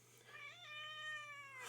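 A cat meows close by in one drawn-out, rising and falling call lasting over a second, with a steady low hum in the background.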